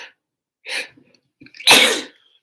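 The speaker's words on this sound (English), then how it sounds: "I think I'm going to sneeze." A single loud, close sneeze, preceded by a couple of quick sharp inhalations.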